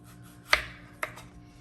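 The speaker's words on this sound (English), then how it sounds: "just take a knife, be very careful, and just hold the apple and just slice down like that" A knife cuts down through a firm apple twice, each slice a crisp crunching snap about half a second apart, close and clear against a quiet room.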